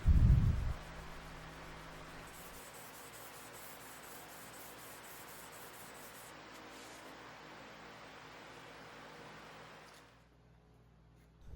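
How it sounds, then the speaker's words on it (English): A blade forged from an old leaf spring is hand sanded, a steady soft rubbing hiss running close and even for about ten seconds before it stops. "I hand sanded the blade up to 400 grit."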